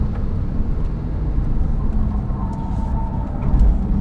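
A steady Porsche 997 Turbo flat-six drone with COBB Stage 2 tuning and exhaust, with rushing air throughout on a track, a faint turbo whine and a louder swell near the end.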